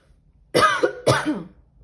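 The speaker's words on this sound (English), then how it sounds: "Hold on, I got a cough." Two sharp coughs in quick succession, close and fairly loud, followed by quiet.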